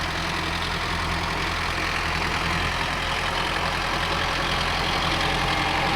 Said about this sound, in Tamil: அந்த நல்லா ஃபுல்லாக டெப்த்து இறங்கும்போது வண்டியோட சவுண்டே உங்களுக்கு நல்லா தெரியும் ப்ரோ, எந்த அளவுக்கு மாறுதுன்னு